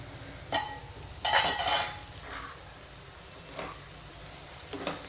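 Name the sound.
okra masala (bhindi) frying and being stirred in a pan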